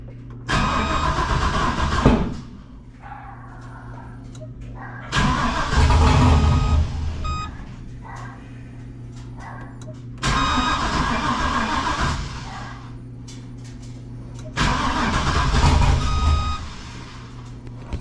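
A junkyard 6.0 V8 engine in a truck cranks and fires up repeatedly, revving loud in bursts that settle back to a rough idle, close by and with no talking.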